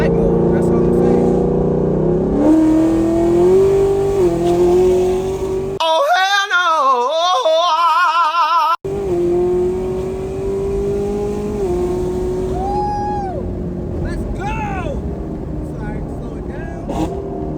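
A Chevrolet Camaro ZL1 in track mode accelerates hard in third gear, its engine note climbing loud and close, then dropping and rising again, with a voice talking over it throughout.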